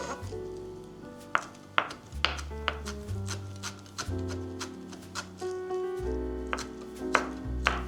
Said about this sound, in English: I took the parsley stems and cut them finely.